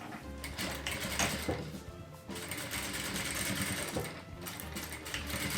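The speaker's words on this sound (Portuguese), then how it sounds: "coloco o viés, pulo mais ou menos 2 dedinhos e começo costurando aqui" Sewing machine stitching bias binding onto fabric, a steady close mechanical whir running nearly the whole time with a brief slowdown, no voices over it.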